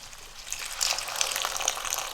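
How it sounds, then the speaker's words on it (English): Hot water from a kettle is splashed into a simmering chicken karahi gravy with the oil separated, giving a bright hissing sizzle and bubbling that rises and holds steady for about two seconds, with no talk. "it's time to add a splash of water"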